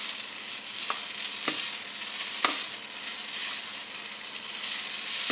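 Rosemary sizzles in oil in a pan with pasta, a steady close fry with a few sharp stirring clicks and scrapes, no voices.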